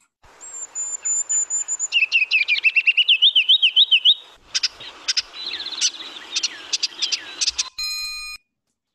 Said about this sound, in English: That's right, it's the ruby crowned.